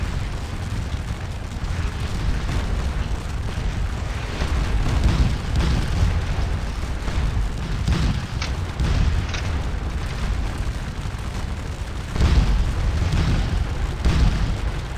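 Napoleonic cannon artillery booming across a Waterloo battlefield in a strategy game, a steady barrage of low heavy blasts and rumbles rolling continuously, some shots louder and closer than the distant ones.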